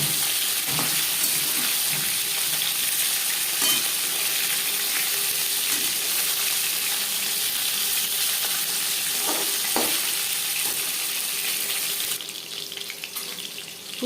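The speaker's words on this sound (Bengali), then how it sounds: "একটা সাইড ভাজা হয়ে গেলে অপর সাইডটা উল্টে দেবো।" Pieces of chitol fish fry in hot oil with a loud, even sizzle that runs steadily with a few soft knocks, then thins out abruptly near the end.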